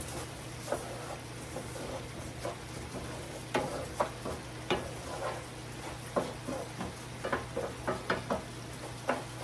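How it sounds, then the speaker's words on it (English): Taco meat browning in a pan, a low steady sizzle beneath a string of sharp scraping clicks as a utensil stirs it, the taps irregular and growing busier toward the end. "I'll give that a stir."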